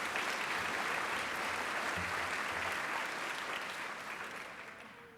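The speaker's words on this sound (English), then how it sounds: "they deserve a clap as well" Gala dinner audience applauding a panel, sustained even clapping from a large room that holds steady for several seconds and then fades toward the end.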